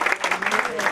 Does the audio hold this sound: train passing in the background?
no